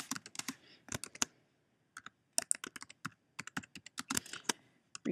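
A computer keyboard is typed on in quick, uneven bursts of soft clicks, close and quiet, with a short pause near the middle and no talking.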